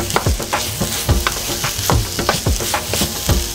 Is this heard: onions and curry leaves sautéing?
yes